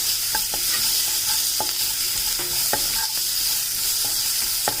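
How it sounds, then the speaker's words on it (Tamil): Onions sauté in coconut oil for mor kuzhambu with a steady sizzle, while a spoon scrapes and stirs the pan in regular, distinct strokes, close and with no talking. "வதக்கிட்டு அதோட கையோட வெங்காயத்தையும் சேர்த்துடலாம். வெங்காயமும் நல்லா வதங்கட்டும்."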